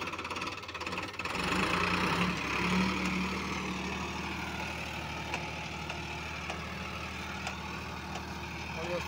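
A Sonalika DI RX 35 tractor engine idles with a steady low rumble and faint knocking, running continuously at moderate volume alongside a brief louder burst near the start.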